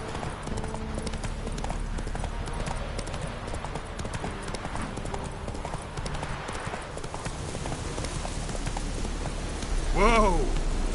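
Roach, a horse in the video game The Witcher, gallops in a steady clip-clop of hooves over a soft rain-like hiss, with a short burst of vocal sound near the end.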